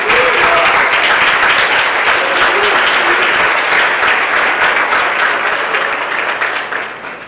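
A church congregation claps loudly and continuously during a Sunday morning service, a thick sustained wash with faint voices and cheers mixed in, tapering slightly at the end.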